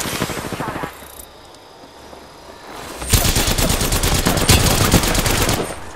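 Rapid automatic gunfire in Apex Legends rattles out in dense bursts, loud and close, with a brief lull before a longer sustained volley.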